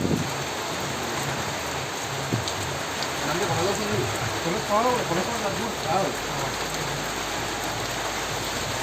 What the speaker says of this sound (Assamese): পুৰা বৰষুণ দিছে ঠিক